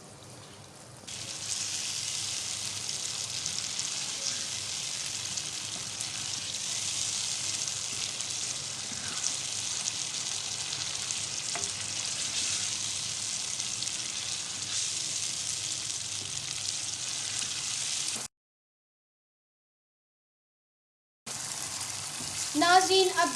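Chicken fries in a pan with a loud, steady hiss that carries on for most of the clip. The sizzle breaks into a few seconds of silence, then returns with faint stirring.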